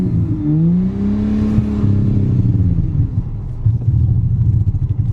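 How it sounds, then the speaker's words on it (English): Engine of a Jaguar that sat 20 years in a barn, running steadily at close range: a loud, continuous low rumble with a rising rev in the middle, then a rougher, uneven idle toward the end. "the engine actually sounds pretty good"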